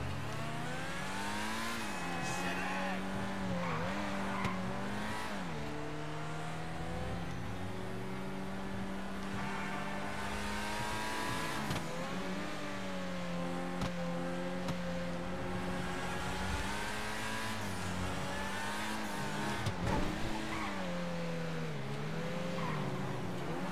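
A Pegassi Torero sports car driven in GTA5, its engine revving up and down through gear changes with a continuous buzzing whine and occasional tire squeal, close and steady for the whole stretch.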